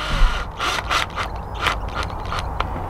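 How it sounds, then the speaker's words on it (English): A screw gun drives a clamp screw snug on a Megalodon dive surface valve, giving a series of quick ratcheting, clicking bursts spaced irregularly over a steady low background, close and moderately loud. "Take your screw gun and just gently,"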